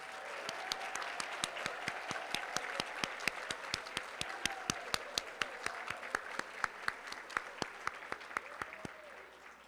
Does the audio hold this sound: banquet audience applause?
yes